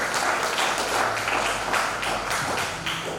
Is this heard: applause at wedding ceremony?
yes